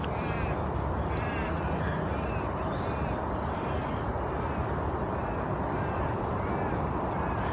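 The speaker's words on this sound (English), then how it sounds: "There's quite a few lorikeets around." Several lorikeets give scattered, squawky calls at a distance during the dawn chorus over a steady, noisy background rumble, coming in brief repeated bursts.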